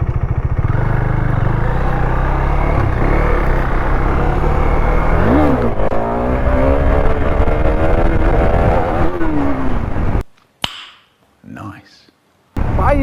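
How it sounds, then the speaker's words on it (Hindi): KTM Duke 390 motorcycle pulling a wheelie in second gear, the engine loud and close as it revs and climbs in pitch, eases, then surges again before cutting off abruptly near the end. "देखो यार मेरा 2 गियर का व्हीली"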